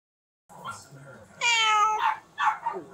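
A cat in a filthy kennel with no food or water meows up close: a faint first cry, then one long, loud, plaintive meow and a couple of shorter ones after it.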